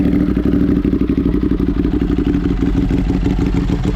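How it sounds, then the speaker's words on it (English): Ducati Monster 821 motorcycle engine revving up close, a loud, steady throbbing rumble with rapid pulsing firing beats and a brief rise in intensity. "Okay, I'll give you a little rev."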